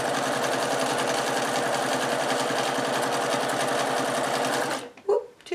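A domestic sewing machine stitches a double row through the fabric liner of a reusable Christmas cracker, a steady close whirring hum that runs unbroken for several seconds, then stops abruptly with a few light handling clicks.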